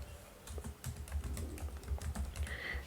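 Keys clatter on a computer keyboard as an email address is typed in, a quick uneven run of close, crisp taps with brief pauses between bursts.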